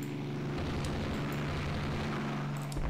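A torpedo strikes a warship in the naval strategy game Rule the Waves 2, a loud sustained rumbling explosion with low droning tones running steadily under it for a few seconds, no talking.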